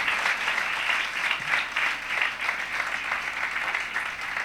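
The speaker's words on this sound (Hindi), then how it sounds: "जोरदार तालियां से जिंदा खुदा के लिए" A church congregation claps loudly and steadily in praise during a Christian worship program, a dense, sustained wash of applause close by with no break for several seconds.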